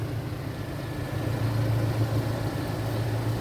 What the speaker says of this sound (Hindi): This is the sound of the engine, 2700 cc petrol engine.